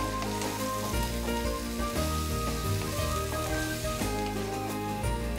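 Capsicum and potato sabzi with dhania, jeera and amchur powders and coriander leaves sizzles loudly in a hot pan while being tossed, a steady frying crackle with periodic stirring scrapes.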